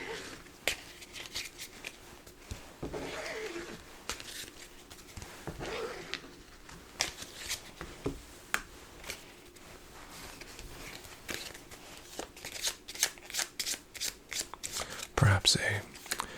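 Cards are shuffled repeatedly up close, crisp riffling bursts and soft flicks coming in quick irregular runs over faint background hiss.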